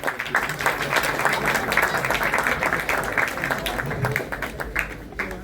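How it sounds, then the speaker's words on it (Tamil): Applause from an audience at the 130th anniversary celebration of the Madras Hindu Good Templars' League, a dense, steady patter of many hands that fills the whole stretch and fades slightly at the end. "அடுத்து சிறப்பு கரகோஷங்கள்."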